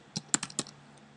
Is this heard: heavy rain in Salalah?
no